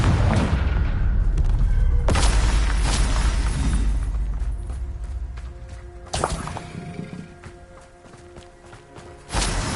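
Confringo blasting spells exploding in Hogwarts Legacy: heavy booms at the start and near two, six and nine and a half seconds, each thudding loud and close over a fading rumble.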